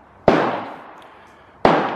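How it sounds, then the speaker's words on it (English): A Ruger Precision Rifle chambered in 300 Win Mag has its bolt pushed forward and locked, giving two sharp, loud metallic clacks about a second and a half apart, each trailing off quickly, with no talking. "You can get the bolt all the way forward and locked."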